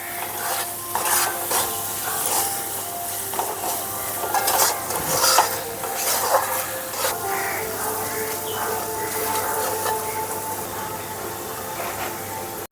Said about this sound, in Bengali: মশলাটাকে ভালো করে কষিয়ে নেব যতক্ষণ না তেল ছেড়ে দিচ্ছে।